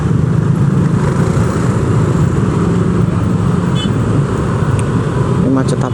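Jammed traffic of cars and motorcycles on the road to Depok makes a loud, constant rumble of idling and creeping engines, with faint horn-like tones near the end and a voice talking over it.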